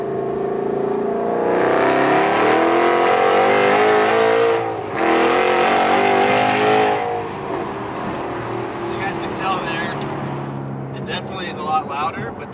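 A car with a Corsa exhaust accelerates hard in second gear onto a freeway, its engine roaring loudly and rising in pitch before easing into a steadier drone as it merges.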